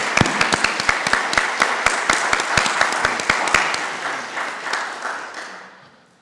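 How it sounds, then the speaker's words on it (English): Audience applause at an event, dense sharp hand claps from a crowd filling the room, loud and steady before fading out toward the end. "Let's give a round of applause."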